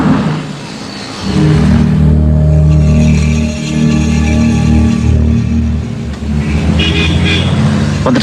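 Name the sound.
vehicle driving past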